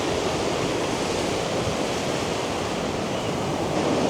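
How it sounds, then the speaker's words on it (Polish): A stream flowing across a beach on the Isle of Lewis roars continuously close by, a dense broad wash with no pauses and no voices. "tam płynął strumień"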